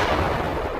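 A bomb exploding in the film Rampage (2009), a loud dense rumbling blast filling the whole moment with sustained roaring noise and no voices.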